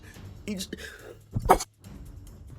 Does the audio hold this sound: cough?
yes